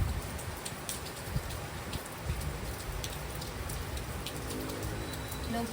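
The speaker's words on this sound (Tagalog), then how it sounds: "Medyo malakas kasi dito yung ulan." Heavy rain pours steadily in a dense, even hiss with patter on surfaces, continuous and close, with no voices.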